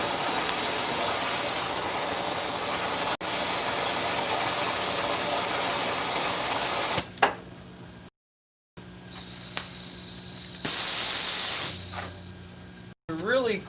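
Compressed air hisses through leaking engine valves: a continuous hiss for about seven seconds, then quieter gaps, a short silence and one loud, sharp burst of hiss near the end.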